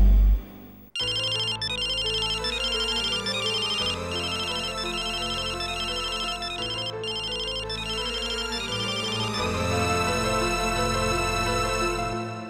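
A telephone rings with a repeating electronic melodic ringtone, loud and steady, playing alone for about twelve seconds without any talking.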